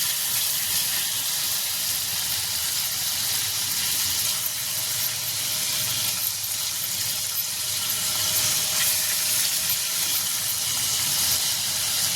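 Paneer shallow fried in a little oil in a small pan for palak paneer, producing a continuous, fairly loud hissing sizzle that holds steady throughout without talk.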